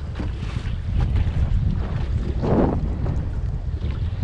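A boat's trolling motor runs while a strong wind blows out on open water. Steady gusty roar and buffeting on the microphone dominate throughout, burying any motor hum, with no voices.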